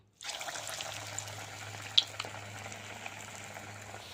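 Egg pakoras dropped one by one into hot oil, Bengali style, give a steady close hiss of frying that runs throughout, with a single sharper pop partway through and no voices.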